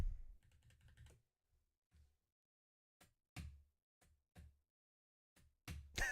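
Keys clatter on a computer keyboard in a rapid burst of close typing, then scattered single keystrokes and short clusters separated by pauses, with no talking.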